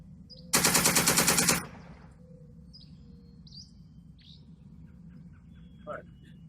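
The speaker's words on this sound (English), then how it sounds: "Got that machine gun." A machine gun in the Second Front wargame lets off one loud, rapid burst of about a second, followed by quieter game ambience with faint bird chirps.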